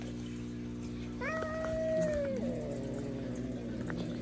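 A fluffy young house cat gives a single drawn-out meow, moderately close, over a steady low indoor hum.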